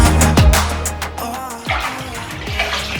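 Water sloshes and splashes in a bathtub during a laundry deep clean, with several distinct plunging swishes and drips amid continuous watery movement, close and fairly loud.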